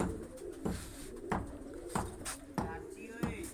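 Pigeons in a coop coo in a low, repeated pulse at a regular rhythm, close by, with soft tapping and handling sounds mixed in as the birds are separated.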